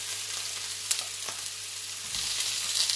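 Chopped onions or shallots frying in a hot pan for Vietnamese sticky chicken, a steady close sizzle with a brief clatter of stirring midway and the hiss swelling louder toward the end.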